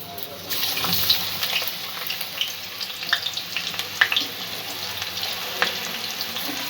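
Chopped onion sizzles in hot oil over a medium-low gas flame for a chicken curry, a steady close frying hiss broken by occasional spatters and stirring clinks.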